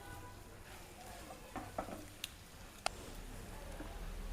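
Dry fish and fenugreek greens stir-fried in a pan, with a soft steady sizzle and occasional light scrapes and clicks from the spatula, close and quiet, with no talking.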